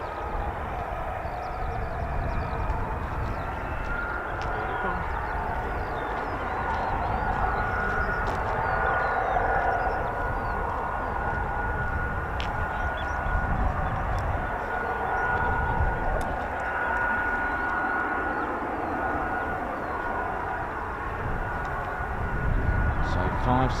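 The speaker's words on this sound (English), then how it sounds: "We've had 7 F-35Bs today, and this is our number 8." An F-35B stealth fighter jet flies at RAF Marham with a broad, sustained roar that builds and lingers for the whole stretch, heard from a distance outdoors while people talk nearby.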